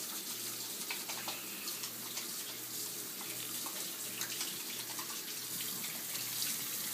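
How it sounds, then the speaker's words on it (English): Hands are washed under a running tap, with a continuous, even splash of water on skin and sink that is soft and close and has no talk over it. "First, you gotta wash the hands."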